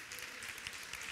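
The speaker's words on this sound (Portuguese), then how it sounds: "Palmas para Jesus." A church congregation claps and applauds during a worship service and ordination ceremony, a steady, dense wash of hand claps kept at a fairly faint, distant level throughout.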